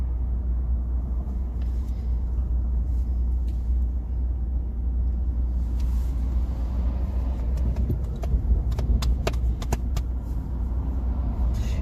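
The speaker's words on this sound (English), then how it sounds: "crazy traffic here that we were unaware of." Continuous road traffic rumbles on a drive toward the Plains, with a deep, steady engine drone and cars passing close by, plus a few sharp clicks and rattles near the end.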